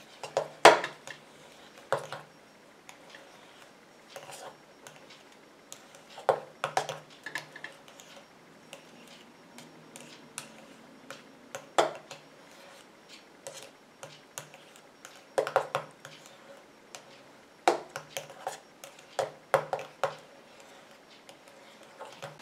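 A walnut shell body scrub being stirred in a bowl, giving scattered clicking and scraping taps at an irregular pace, fairly close and quiet, with no talking.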